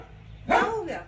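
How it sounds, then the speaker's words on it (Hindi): A small dog gives one sharp, close bark that trails into a brief whine, barking to drive someone away from a home. "कोई था तो हमारी मौली कैसे भौंक भौंक के भगाती है।"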